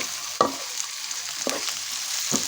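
Onions frying in soybean oil sizzle steadily while a spoon stirs them, giving three distinct scraping strokes against the pan over the continuous hiss, with no talk.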